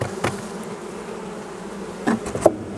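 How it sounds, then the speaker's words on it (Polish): A honeybee colony hums as a steady close drone from a hive, with a few soft knocks and taps near the end and no talking. "to jest rodzina, z której wyszedł pierwszy rój pszczeli."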